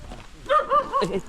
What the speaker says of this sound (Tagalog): Aso.